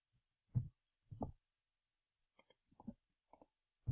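A computer mouse scroll wheel pressed down, giving a few sharp plastic clicks in irregular pairs and singles, close and quiet against silence.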